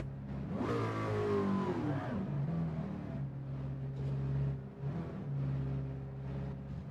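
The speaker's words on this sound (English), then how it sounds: "Oh, it's like me reversing my own bloody car." Car engine in a racing video game at Tsukuba circuit, revving sharply once then settling into a steady mid-pitched hum as the car reverses and parks, fairly close and continuous.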